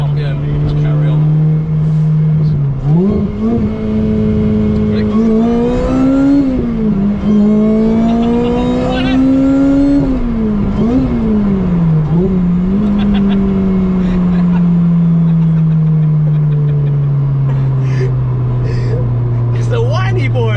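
A high-revving supercharged car engine climbs toward 9,000 RPM with a loud whining tone, rising in several pulls and dipping between shifts before settling into a long steady drone.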